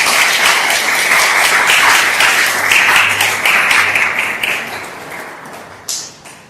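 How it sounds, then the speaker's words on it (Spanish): A church audience claps for a priest in a dense burst of applause that stays loud and steady for several seconds, then thins to a few scattered claps and fades out. "un aplauso para el Padre"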